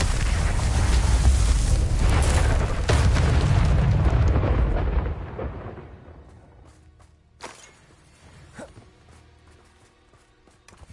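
Confringo fire spell blasts in Hogwarts Legacy, a loud sustained roaring explosion for about five seconds that fades into quieter game ambience with a few scattered thumps and bangs.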